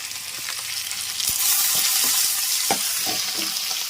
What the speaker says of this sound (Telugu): అలాగే కాసేపు పచ్చిమిర్చి, కరివేపాకు వేపుకుందాం